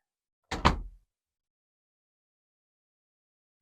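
A door swings shut in a quiet room where a turntable and phono preamp are being tested, giving one brief double-knock thud followed by near silence.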